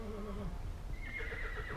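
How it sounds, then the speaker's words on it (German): Horses neigh in a short, fairly faint whinny that rises in pitch, with a softer, lower call just before it. No speech is heard. "Wundert euch nicht, da sind Pferde."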